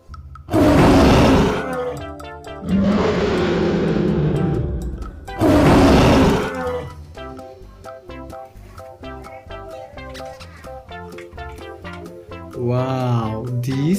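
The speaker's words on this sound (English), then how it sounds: "this is tiger" Three loud, drawn-out tiger roars come in quick succession, followed by quieter background music, with a voice speaking briefly near the end.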